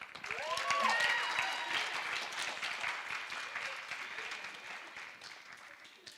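An audience applauds to welcome a speaker at a talk on the James Webb Space Telescope, with steady clapping that swells early and then slowly fades, with some voices mixed in.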